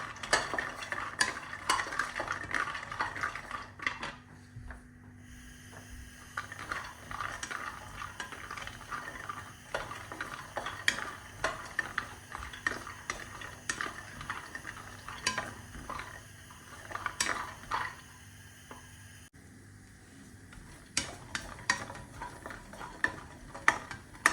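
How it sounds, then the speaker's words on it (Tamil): Ingredients for homemade baby cerelac dry-roasting in a pan until golden, with repeated scraping and stirring clinks from a spoon against the pan over a soft continuous background, steady and close, no talking. "நல்லா கோல்டு கலராக வர வரையும் நல்லா ஃப்ரை பண்ணி எடுத்துக்கணும் ஃப்ரெண்ட்ஸ்"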